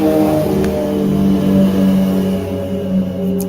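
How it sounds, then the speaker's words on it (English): A motorcycle engine idles close by with a steady low rumble, rising slightly as it revs. "This motorcycle, y'all."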